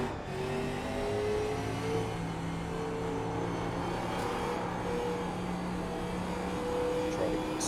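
A race car's engine drones steadily and near at high revs during a qualifying run in a classic-series racing video game at Atlanta, its pitch shifting gradually, with a voice speaking underneath.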